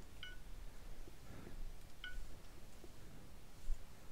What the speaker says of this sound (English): This annoying ass fucking beeping.